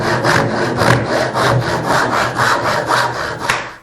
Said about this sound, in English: I'll cut the arm to length.